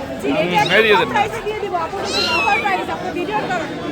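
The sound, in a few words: Persian cats meowing at an animal market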